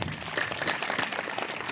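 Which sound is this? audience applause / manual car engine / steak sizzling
audience applause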